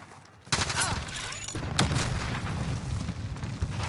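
Sustained gunfire from a battle royale video game, a dense burst of shots starting abruptly after a quiet half-second and continuing loudly with heavy booming, with a voice briefly audible amid the shooting.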